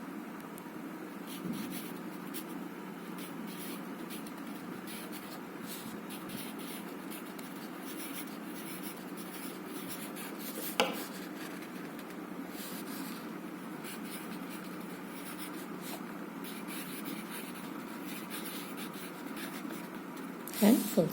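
A teacher writes on a board during a grammar class, producing a steady, faint scratching and rubbing of the marker or chalk that runs continuously in the background, with a brief knock near the middle and a louder tap at the end.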